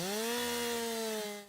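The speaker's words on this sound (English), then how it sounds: "The roar of a chainsaw rips through Double Trouble State Park in New Jersey." A chainsaw cutting trees during forest work in Double Trouble State Park, New Jersey, gives a loud, steady buzzing engine whine that holds for over a second before fading slightly.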